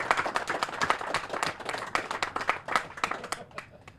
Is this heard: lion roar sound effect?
no